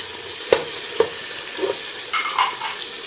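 Green chilies fry in a pan for chicken handi korma, a soft sizzle under a few sharp knocks of a spoon against the pan and some brief scraping stirs.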